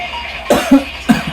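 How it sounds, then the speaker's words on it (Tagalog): Two or three short, harsh coughs close by, with a brief gap between bursts and no talking. "Pampagaling sa ubo."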